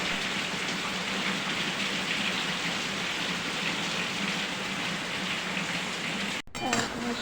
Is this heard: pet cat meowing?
no